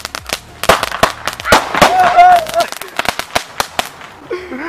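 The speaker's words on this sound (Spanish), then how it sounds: "Todos los cohetes. Solo uno explotó." Firecrackers burst outdoors in a rapid, irregular string of sharp, loud cracks, some overlapping with crackling debris, while people shout and talk excitedly between and over the explosions.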